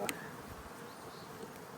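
Steady, faint buzzing hums throughout, like many honey bees droning close by around a hive during a spring inspection, with no break.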